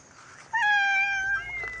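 A cat meows once, loud and close, with a drawn-out rising-and-falling cry at dinner time among a group of temple cats in Chae Hom, Lampang.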